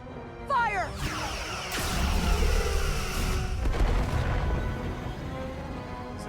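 Starship weapons fire in the video game Star Trek Resurgence, with zapping phaser sweeps followed by heavy booming impacts and a rumbling, crashing barrage up close.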